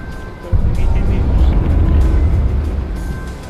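A car driven in the zombie survival game H1Z1 rumbles with a steady low engine drone and road noise that swells in after half a second and holds loud, with player talk over it.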